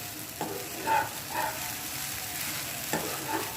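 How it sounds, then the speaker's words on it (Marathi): Sabudana khichdi is stirred and fried in a pan, with a soft background sizzle and several scraping stirs of a spatula at an unhurried, repeated pace. "आपल्याला ही साबुदाणा खिचडी म्हणजे होईपर्यंत अशी वरफ करायची असते सारखी म्हणजे मग ती चांगली फ्राय होते"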